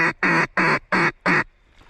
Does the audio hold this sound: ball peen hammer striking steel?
no